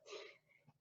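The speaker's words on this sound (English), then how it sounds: "My dog is laying behind me snoring" A dog lying close by snores in one short, breathy wheeze, loud at first and then fading, with a faint snort at the end.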